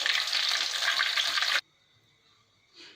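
Chicken 65 pieces deep frying in hot oil, a loud, dense crackling sizzle for about a second and a half that cuts off abruptly, leaving near silence and a faint brief rustle near the end.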